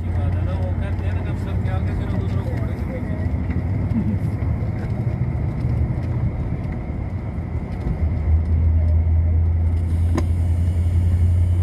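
A road vehicle travels in Saudi Arabia near Mecca, with a steady engine and road rumble throughout and a louder surge toward the end.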